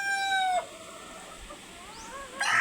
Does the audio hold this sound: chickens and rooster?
yes